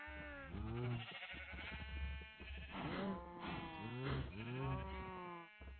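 Cows mooing in the game Minecraft: a run of loud, drawn-out bleating calls with falling pitch, repeated and overlapping across the stretch.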